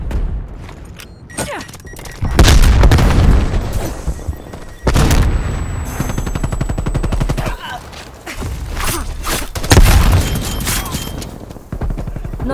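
Loud bursts of gunfire, flashbang and grenade explosions in Call of Duty: Black Ops Cold War, with several sharp booms and rattling volleys spread across the clip and little talk.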